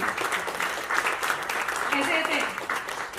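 A dense wash of audience applause fills an International Global Achievers Award 2021 ceremony, many hands clapping at once at steady loudness, with a faint voice briefly rising beneath it.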